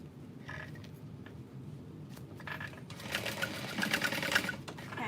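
A sewing machine stitches a backpack lining seam with a half-inch seam allowance, backstitching and jumping over, a steady close mechanical whir that runs throughout in bursts and grows louder and faster toward the end.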